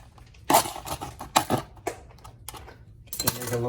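A knife pokes a hole in popcorn packaging, making a handful of sharp, close crackling clicks and taps in an irregular rhythm, with quiet gaps between.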